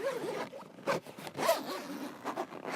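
Panel zip on a Kampa Rally Air Pro awning drawn along in several short raspy bursts, close and quiet, with brief pauses between pulls and no talk.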